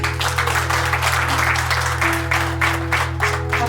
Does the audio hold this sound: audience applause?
yes